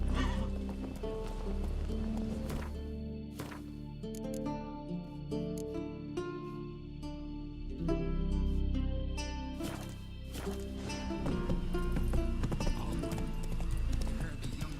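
The horse Roach in The Witcher 3 gallops with rhythmic hoof clip-clops and lets out loud whinnies, over game music and a voice.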